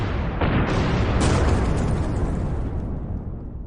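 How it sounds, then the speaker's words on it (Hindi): Several blasts go off one after another in a dramatized scene, a heavy booming roar with a sharp burst partway through, loud and close before fading. "ठीक उसी समय एक के बाद एक कई धमाके एक साथ हुए।"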